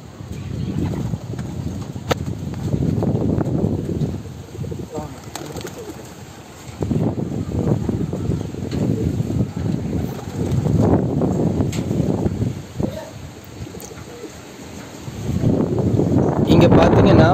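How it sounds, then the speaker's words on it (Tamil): Gusty wind sweeps over open farm fields beside a pigeon cage, rising and falling in rumbling surges that buffet the microphone, with a voice talking at times underneath. "இங்கே பார்த்தீங்கன்னா வயல்வெளி அப்படின்றதுனால காற்று கொஞ்சம் அதிகமாகவே வீசுது."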